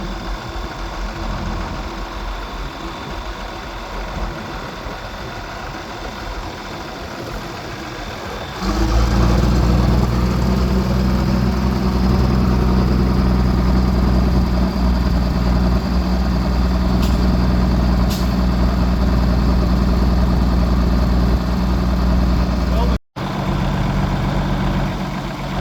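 Old Ford picker truck engine cranks, then fires up and settles into a loud, steady low rumbling idle close by, continuing for a long stretch with a brief dropout near the end.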